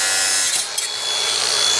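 A power tool cuts through steel Unistrut channel for a budget roof rack, a loud continuous high-pitched grinding rasp that holds steady for about two seconds with a brief dip midway.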